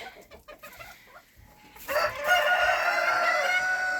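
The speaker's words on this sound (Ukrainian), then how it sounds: "Такі такі курочки, такі півнички." A flock of hens clucking and roosters calling, faint at first, then a dense, louder chorus of overlapping cackles and crows.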